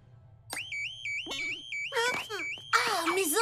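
A warbling electronic alarm rings in the cartoon Totally Spies, a loud repeating siren-like tone that rises and falls steadily, joined by clattering noise bursts and shouting voices that pile on toward the end.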